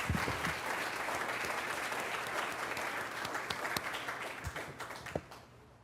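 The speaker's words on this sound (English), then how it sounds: "How about a round of applause for Maureen?" A room of people at a board of education meeting applauds a retiring colleague with steady, dense clapping that holds for several seconds and thins out toward the end.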